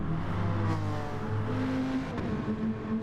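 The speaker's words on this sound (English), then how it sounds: "Viper just coming down the front straight" A Viper GT4 race car roars down the front straight at Brands Hatch GP during a GT4 championship race, its engine droning steadily with a rising, shifting whine, loud and continuous with no voices.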